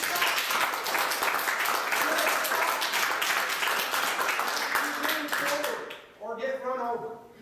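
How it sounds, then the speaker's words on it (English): A crowd at a school board meeting claps in sustained, dense applause for about six seconds before it fades and a voice starts speaking. "she should have an absolutely huge round of applause"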